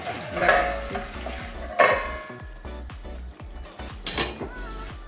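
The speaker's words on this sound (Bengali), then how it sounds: "ভালো করে মিশিয়ে নেব মশলা মেশানো হয়ে গেছে" Mushroom curry being stirred with spices in a pan, a metal spoon clanking and scraping against the pan in a steady repeated rhythm, with a few louder knocks and a faint sizzle underneath.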